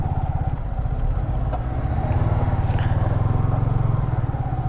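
Steady road traffic rumbles close by, with motorcycle engines droning and puttering continuously, no voices.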